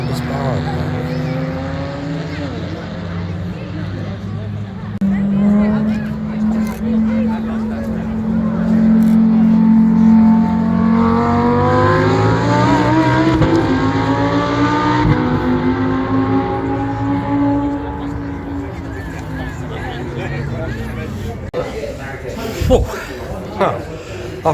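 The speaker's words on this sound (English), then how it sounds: "Segment of the cars going around." Historic cars run around the track at Brooklands Museum's motorsports day, engines droning and rising as they pass, one louder rev in the middle, with people talking nearby under the engine noise.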